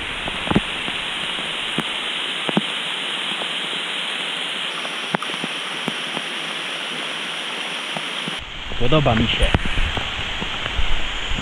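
Heavy rain pours down steadily in a dense hiss with occasional drips in the mountains of Dalat, Vietnam; near the end a voice speaks briefly in Polish over the downpour.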